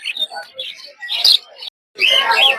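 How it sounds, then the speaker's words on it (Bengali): A pair of budgerigars at a bird and pigeon market chirp and twitter in quick, bright bursts close by, with a short pause before a dense flurry of calls. "তো দেখতে পাচ্ছেন সুন্দর এক জোড়া বাজিগর পাখি।"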